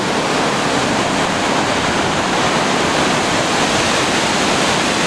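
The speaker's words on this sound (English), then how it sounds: "this is the main branch of the Boulder River. This is not flood stage. I'm standing on a bridge that crosses the river." Main branch of the Boulder River near Big Timber, Montana, rushing beneath a bridge in June, below flood stage. It makes a loud, constant broadband roar of churning water, heard up close with no pauses or voices.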